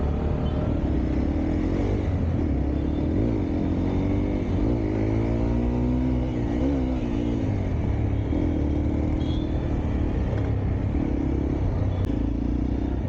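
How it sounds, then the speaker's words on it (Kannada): A vehicle pulls out on a residential road, its engine rumbling steadily and climbing in pitch at times, heard over the constant drone of a nearby riding motorbike, with no talking. "ಯಾರೋ ಗಾಡಿ ತೆಗಿತಾರೆ"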